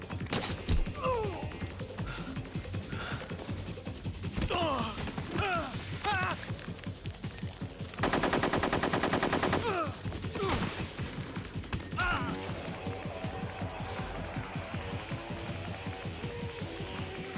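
Gunfire in the stealth game Metal Gear Solid 3: Snake Eater: a dense, sustained burst of rapid shots about halfway through, set among clanking mechanical effects and scattered impacts.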